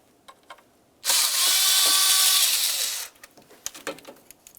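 A power tool whirs loudly and steadily for about two seconds, removing one of three 10mm bolts from the upper intake of a 1998-2002 Lincoln Navigator engine, with light ratchet and handling clicks before and after.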